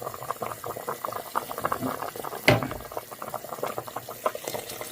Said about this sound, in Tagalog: kailangan natin dagdagan ng tubig na kumukulo